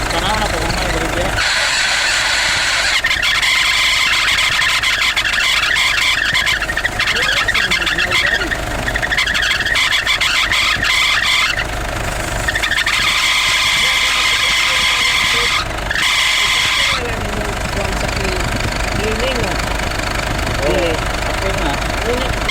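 A car engine runs steadily with its air conditioning switched on, the magnetic compressor clutch engaging. A constant, loud mechanical drone and whine shift in tone as the compressor cuts in and out.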